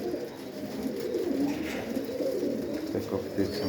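Pigeons, including a grey hen, coo softly in a dovecote over a steady murmur of background noise, with no clear talk.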